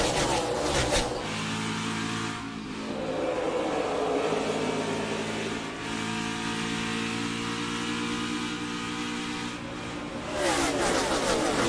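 In-car sound from a NASCAR stock car on a restart at Darlington Raceway: a loud, steady engine drone fills the cabin, its pitch shifting with throttle changes and gear changes, with no talking.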